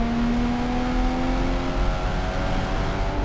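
A Porsche 981 Boxster GTS on a twisty road pulls hard under throttle, its engine note rising loud and steady with a clear harmonic whine, constant and close throughout, without anyone talking.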